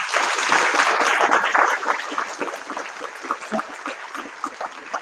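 A conference audience at an Indian business conclave stands and cheers, loud clapping and whooping swelling at first, then thinning into scattered claps and calls.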